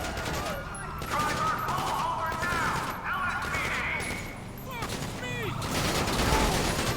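Gunfire crackles through a GTA 5 mods session, with repeated close shots and short bursts scattered over several seconds, mixed with game action and a voice talking over it.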